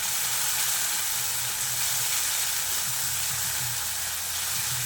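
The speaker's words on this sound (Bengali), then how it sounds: "এবার মশলাটাকে কিছুক্ষণ কষিয়ে নিচ্ছি।" Spice paste of poppy seed, mustard, dry chilli, turmeric and cumin sizzles steadily in a pan, a constant close frying hiss with no voices.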